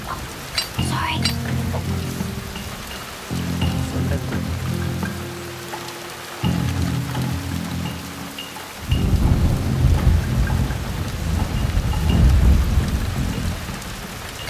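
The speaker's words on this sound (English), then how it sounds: "Curse this rain." Heavy rain and rolling thunder in the video game Shadow Tactics, a steady downpour with deep rumbles building in waves and a loud crash near the end.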